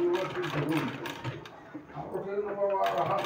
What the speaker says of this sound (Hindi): इसी तरह से दूसरे साइड भी हमको सिलाई लगा लेना है